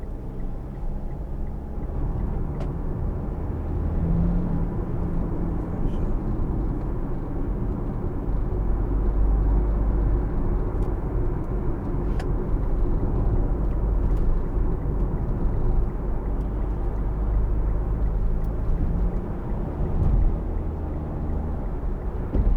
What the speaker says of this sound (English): There's the vibration just at 1700 revs.